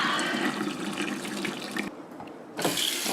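Cold tap water runs into a pot of orange peels, a steady rushing splash that briefly drops out then resumes loud and close.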